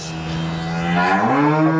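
A cow on a Gold Coast, Queensland farm gives one loud, close, drawn-out moo that rises and shifts in pitch midway, heard alone during artificial insemination.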